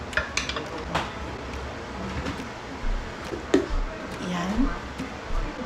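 A spoon stirring a cassava pudding mixture with sugar in a pot, with irregular scraping and clinking knocks against the pot, under someone talking.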